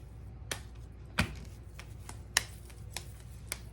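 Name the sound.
patting out ground meat patties by hand for Salisbury steak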